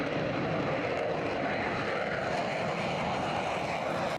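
A Rafale fighter jet with twin Snecma M88 turbofan engines roars overhead in a steady, loud, broadband wash that holds for about four seconds before cutting off abruptly.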